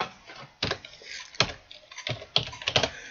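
Someone types a chat command on a computer keyboard while playing Minecraft. Keys are heard in short, uneven bursts of clicks separated by brief pauses, fairly quiet and with no voice over them.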